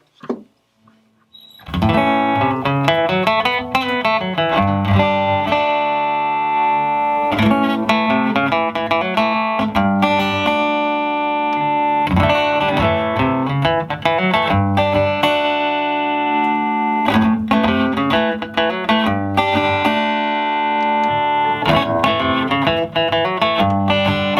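An amplified Fender Acoustasonic acoustic-electric guitar plays sustained chords and riffs with a gritty, distorted tone through different pickup positions, continuous and loud throughout.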